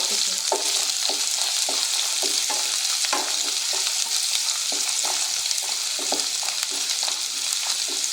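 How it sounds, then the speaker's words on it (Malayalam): Mustard seeds popping in hot oil in a pan, a dense continuous sizzle studded with many quick sharp crackles and pops, close and loud with no talking. "കടുക് പൊട്ടാൻ തുടങ്ങി"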